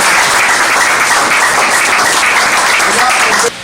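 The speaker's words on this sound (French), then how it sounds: "j'appelle l'honorable professeur André Bada, que je demande aussi d'applaudir aussi." Loud, sustained applause from an audience at a political association event, a dense wash of clapping that carries steadily for several seconds before dropping off abruptly at the end.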